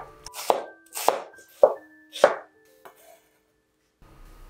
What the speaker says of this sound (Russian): нарезаю полукольцами 1 репчатую луковицу